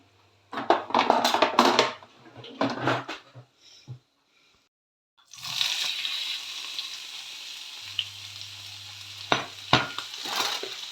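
Cut bitter gourd and vegetables dropped into a hot pan begin a loud, steady sizzle of frying, with stirring scrapes and a few sharp clanks over it; talk is heard before the food goes in.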